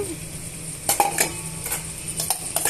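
Chopped okra is tipped into a pan with tomato and onion pieces and stirred, giving repeated scraping, clattering spoon-on-pan sounds over a faint background sizzle, with no talking.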